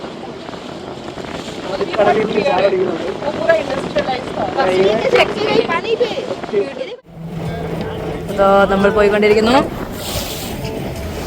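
A boat motors across open sea toward the Lakshadweep islands, its engine and wind rumbling steadily beneath people talking, with a short drop partway through.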